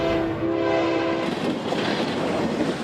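A train blows a loud sustained horn at a railroad crossing, then gives way to a heavy rumbling roar of rail cars rolling past close by.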